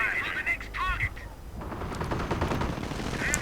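Rapid bursts of gunfire fill a video game tank-and-infantry battle involving a Greyhound armored car, Sherman and Panzer IV, a dense crackling fusillade building after a brief lull, with a voice talking over the start.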